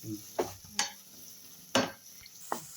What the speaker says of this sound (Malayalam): ചെറുള്ളി നല്ലപോലൊന്ന് ഒന്ന് വഴട്ടെ നല്ലപോലെ വഴണ്ട് വരണം